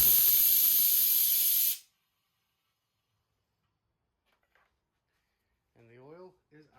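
An oil extractor draws oil out of a Hyper Tough push mower with a loud, steady hiss of suction that cuts off abruptly after under two seconds, leaving silence before a brief voice at the end.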